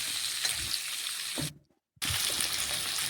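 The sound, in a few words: hog plum and carrot frying in a pan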